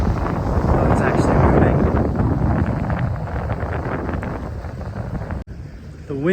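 Strong wind buffets a homemade sailboat on the open ocean, a loud continuous rushing roar with gusty swells across the whole stretch and a brief dropout near the end.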